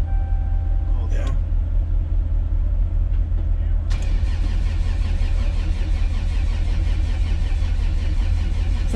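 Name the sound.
car engine cranking but not starting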